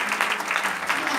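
A church congregation applauding during a sermon, steady clapping that fills the room with voices mixed in.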